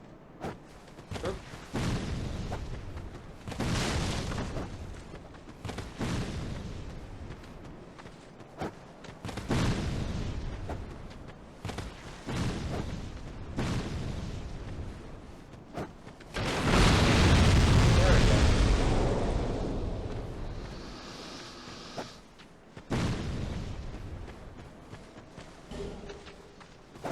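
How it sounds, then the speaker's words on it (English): Fire bombs thrown by enemies burst in a Dark Souls II game scene, a series of heavy booming blasts spread through the clip, with one long roaring explosion in the middle, while a person talks between them. "we've got these two guys up there that'll throw fire bombs at us"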